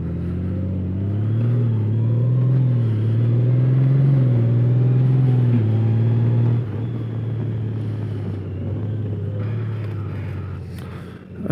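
A Kawasaki Z H2 SE motorcycle accelerates hard, its engine note climbing steadily through the gears with a brief drop at a shift, loud and close with a rumbling low end.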